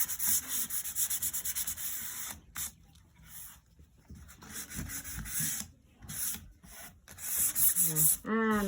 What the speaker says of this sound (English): And I'll just give this a quick sand.